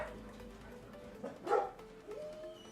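Dog barking indoors, a few sharp yaps and short barks spaced over a couple of seconds, fairly close, with quiet room noise between.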